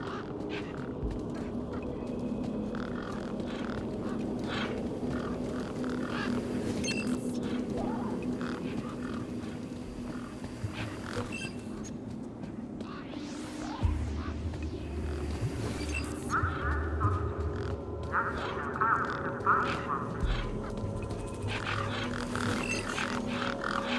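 Game ducks or birds squawk and quack around the back of a truck in Beyond a Steel Sky, scattered calls over a steady ambient bed with low rumbling.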